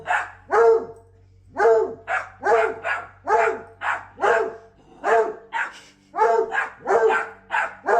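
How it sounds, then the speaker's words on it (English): A two-legged dog in a played clip barks sharply again and again in quick bursts of one or two, loud and close, with a low steady hum running beneath. "Here's a dog that only has 2 legs but doesn't seem too bothered about it."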